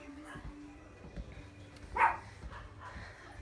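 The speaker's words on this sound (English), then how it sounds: "don't bark" A pet dog gives a single sharp bark indoors, with people talking quietly before and after it.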